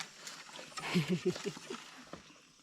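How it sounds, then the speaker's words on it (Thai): Frogs croak outdoors at night in a quick run of rhythmic pulses that swells in the middle and then fades over a quiet background. "แล้วก็มาฟังเสียงกบร้องเนี่ย"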